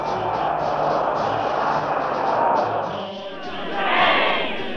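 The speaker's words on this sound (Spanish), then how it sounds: "Parque Coutinho se convirtió en una marejada humana palpitante que batía palmas y banderas chilenas" A dense crowd in Parque Coutinho, Chile, roars continuously at a political rally, with clapping and cheering swelling near the end, heard as a thick, distant wash of voices.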